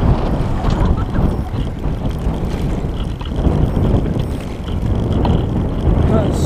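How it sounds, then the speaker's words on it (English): Steady wind buffets the microphone during a morning recumbent trike ride past open fields, a continuous low roar that swells and eases in gusts with no talk. "Wind is up blowing."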